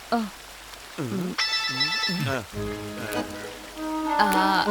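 A phone rings with melodic electronic tones, shifting through several pitched patterns, moderately loud over a hissy background.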